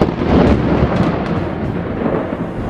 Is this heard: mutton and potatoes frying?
no